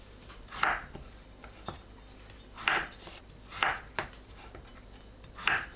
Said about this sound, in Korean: 감자는 큼직하게 썰어줍니다